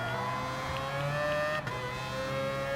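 Mazda RX Vision GT3 concept race car in Gran Turismo Sport, its engine holding a high, steady whine that climbs gradually with a short dip near the end, loud and up close.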